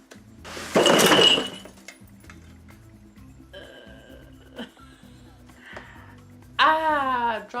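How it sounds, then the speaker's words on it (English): Glass jars dropped onto a floor, giving a loud shattering crash early on, followed by scattered clinks and small impacts; voices and an animal-like squeal are heard nearby. "Let's drop glass jars on the dog."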